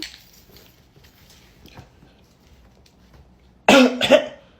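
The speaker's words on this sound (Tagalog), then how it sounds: "bakit inuubo ka?" After a quiet stretch, two sharp, close coughs burst out in quick succession near the end.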